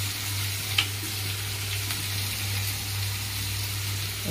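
Prawns fry in a pan with a steady soft sizzle beneath a low constant hum, and a single sharp clink of the stirring utensil comes early on.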